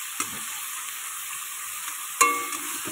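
Prawns fry in oil with a steady, bright sizzle, marked by a soft knock early on and a sharper clatter of a utensil against the pan near the end. No speech.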